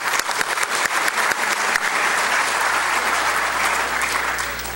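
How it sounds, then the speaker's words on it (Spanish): An audience at a mining industry talk breaks into strong applause for the announced winners, a thick, sustained wash of many hands clapping close by, with a few sharp claps at the start. "Un fuerte aplauso para ellos."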